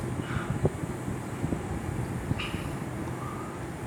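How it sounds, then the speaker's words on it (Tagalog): Strong wind buffets the microphone outdoors beneath a high-flying homemade kite, a steady rushing roar with a few soft thumps and faint higher whistles. "Lakas pa ng hangin doon sa ere mga gawiks"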